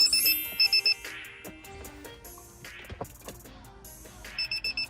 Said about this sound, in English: And by baby alarm, I mean an alarm that's in your car.